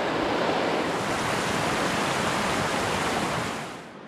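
A fast, fierce river current in the Yellowstone backcountry rushes over slippery rocks, a steady, loud, dense roar of flowing water that holds even throughout and eases slightly at the very end.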